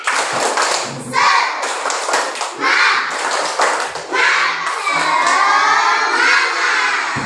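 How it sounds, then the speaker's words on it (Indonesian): A classroom of students performs a rhythmic group spirit clap, loud patterned claps and thuds mixed with children's shouts and cheering, close and lively. "1, 2, 3, tepuk semangat"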